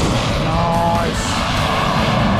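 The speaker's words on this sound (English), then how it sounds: "Look at this, turbine air tractor." A turbine-powered Air Tractor aircraft passes close by at a fly-in with a loud, steady whining roar of its engine, broadband and sustained for the full few seconds.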